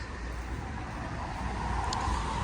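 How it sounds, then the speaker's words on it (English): Road traffic heard from an orchard beside a field, a continuous low rumble and hiss of passing vehicles at moderate distance, swelling slightly toward the end, no voices. "Very noisy traffic."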